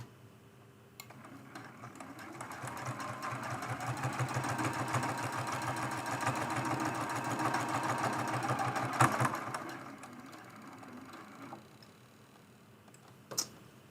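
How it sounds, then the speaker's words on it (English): Sewing machine stitching binding onto a quilted mug rug, a fast steady mechanical whir with rapid clicking that runs for about ten seconds, stops briefly, then ends with a few separate clicks, close and fairly quiet. "We're sewing some binding."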